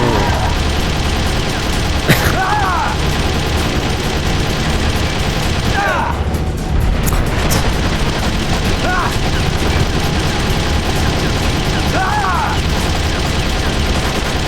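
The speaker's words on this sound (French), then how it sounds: "je suis juste en train de faire des grandes rafales" Long, continuous bursts of automatic gunfire fill a Metal Gear Solid firefight, loud and dense throughout, with a few brief sweeping effects and occasional heavier booms in the mix.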